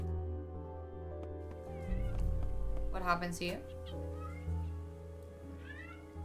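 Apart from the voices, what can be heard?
cat meowing in a video game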